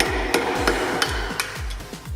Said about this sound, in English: I'm gonna have to take a flathead screwdriver, put it in there, and pound it with a hammer.